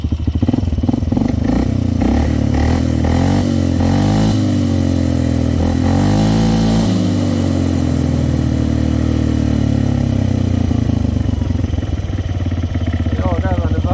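ATV quad engine, fully warmed up and idling rich during an air-fuel ratio gauge test, running loud and close with a few throttle blips and revs shifting pitch, someone talking over it.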